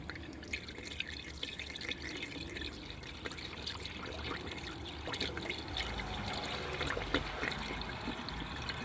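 Coolant poured back into the radiator of a Dodge Durango with the 3.6L Pentastar engine, liquid trickling and dripping steadily with a light splash up close, no talk over it.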